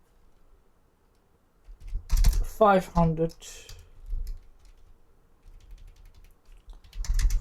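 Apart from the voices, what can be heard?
typing on a computer keyboard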